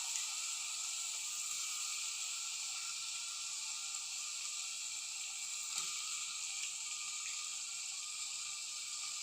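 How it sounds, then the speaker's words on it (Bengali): Prawns frying in a thick, oil-glistening spice masala in a pan, a steady soft sizzle and hiss running throughout at low level, with only a faint brief disturbance midway. "এখন এই চিংড়ি মাছগুলোকে আমি সুন্দর করে ভেজে নেব"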